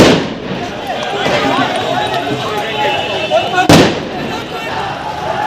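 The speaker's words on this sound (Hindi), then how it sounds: "देखो यार बम चल रहे" Crude bombs burst during a street clash in Kanpur, with one sharp, loud blast standing out against a dense, noisy crowd clamour and voices shouting throughout.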